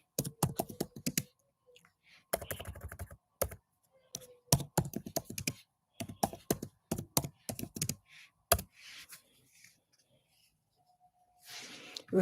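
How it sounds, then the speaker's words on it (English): Bursts of close, clicky keystrokes on a computer keyboard, typed in several quick runs separated by short pauses, with no talking. "let me type"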